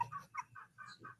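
A hen clucks repeatedly right outside a window, a run of short, bright, hollering calls in an uneven rhythm, fairly close and moderately loud.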